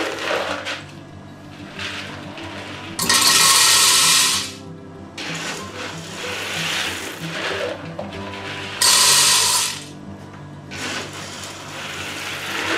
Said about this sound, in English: a commercial coffee grinder with a little few modifications. I've done some tests. I think it will do a fine job on this corn. So let's grind this corn